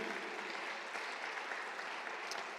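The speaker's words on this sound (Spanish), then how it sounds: "Den un aplauso al Señor." A church congregation at a Sunday service claps in steady, fairly quiet applause, a brief continuous wash of many hands heard from some distance without speech.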